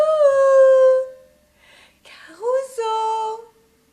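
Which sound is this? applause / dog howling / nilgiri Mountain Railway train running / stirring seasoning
dog howling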